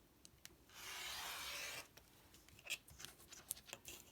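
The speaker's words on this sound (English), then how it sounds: "So I'm going to use my rotary blade" A rotary blade rolls through fabric to cut strips, making one smooth rasping stroke of about a second, followed by faint taps and light handling sounds, close and quiet.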